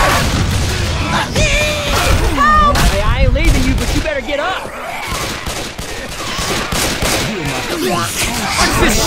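Left 4 Dead 2 gameplay with constant loud gunfire and booms, dense bursts of shots layered with shouting voices and chaotic in-game noise throughout.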